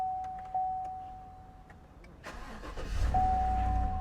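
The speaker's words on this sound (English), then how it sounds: "Now I want to see if we can turn this vehicle on right here." A car engine cranks and catches after a blown fuse was replaced following a battery jump, a steady chime sounding before the starter whirs and the engine settles into a rumbling idle, close by.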